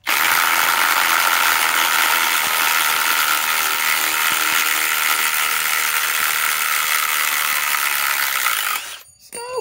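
A Harbor Freight Hercules cordless ratchet works a fastener loose, a loud, steady mechanical whir running without pause for about nine seconds before cutting off abruptly, with a brief clatter at the end.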